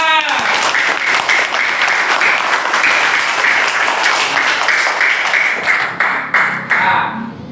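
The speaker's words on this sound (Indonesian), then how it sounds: "Beri tepuk tangan semuanya." A classroom group gives a loud, close round of clapping. It runs steadily for several seconds, then thins out and fades toward the end.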